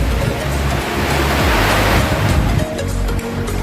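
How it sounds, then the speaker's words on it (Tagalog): Strong Typhoon Aghon wind roars in Santa Cruz, Laguna, a loud, continuous broadband rush with no letup, buffeting close by. "So yung hangin, ay lalo lumalakas yung hangin"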